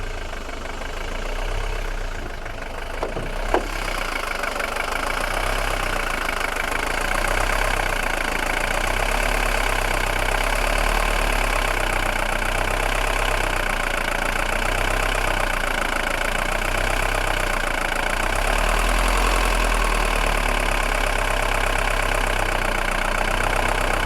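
A 1983 Mercedes 240D W123 diesel engine idles slightly unevenly, a loud, steady, close-up clatter and rumble that runs without pause and without talk.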